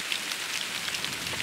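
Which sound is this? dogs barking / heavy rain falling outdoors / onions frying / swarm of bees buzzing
heavy rain falling outdoors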